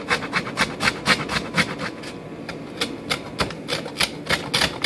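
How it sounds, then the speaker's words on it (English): Fresh, very spicy horseradish root is grated by hand in a rapid, even rhythm of scraping rasps, each stroke close and crisp. "So let's grate the horseradish."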